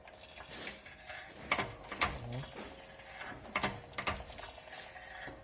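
Small press forcing a part of a simple drilling swivel into place, close and quiet with irregular mechanical clicks, creaks and ratcheting knocks, no speech.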